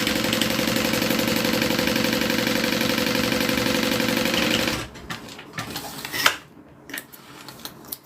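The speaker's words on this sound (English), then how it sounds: "So I'm just going to sew along the top." A sewing machine runs steadily, stitching along the top edge of a piece of fabric for about five seconds, then stops, leaving only quiet handling clicks and a brief clunk.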